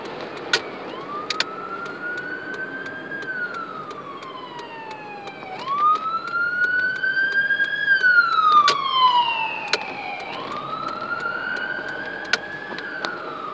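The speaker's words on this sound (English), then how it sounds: "I'll get out of the way of the ambulance if he needs it." An ambulance siren wails in long rising and falling sweeps as it passes close by a car that has pulled over, loudness swelling in the middle and easing off, with faint road noise underneath.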